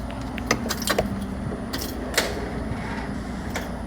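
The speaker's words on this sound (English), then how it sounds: "You can hear it trying to turn over." A car engine cranks on a weak battery, trying to turn over without starting, heard as sharp clicking and rattling bursts over a steady low hum.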